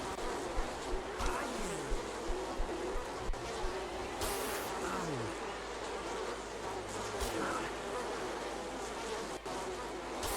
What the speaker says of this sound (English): Too many bees.